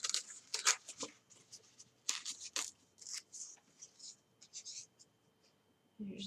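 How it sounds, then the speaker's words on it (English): Paper is torn by hand into a rough ear shape for a shabby chic cow craft: a series of short, close ripping bursts separated by brief pauses. "Just tear out a basic ear shape."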